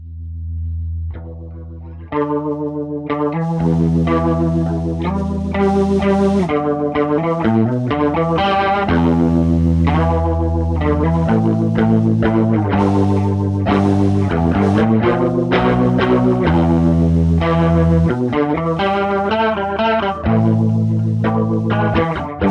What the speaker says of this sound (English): Let's go and do the rotary speaker. That's kind of a cool sound, just unique.